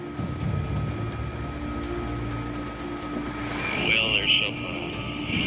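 A large Coast Guard helicopter flying over the Gulf near oil rigs during a search for missing men, its steady engine and rotor drone filling the background throughout while someone speaks briefly over it.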